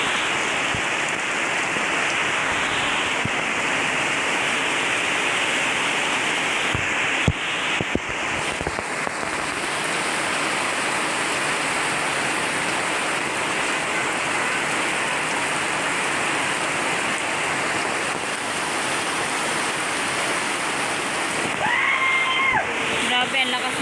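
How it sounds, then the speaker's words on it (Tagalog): Heavy rain pouring steadily in a dense, continuous hiss that fills the whole stretch, with faint voices and brief knocks showing through near the end. "Grabe, ang lakas ng ulan mga ka-vlogger."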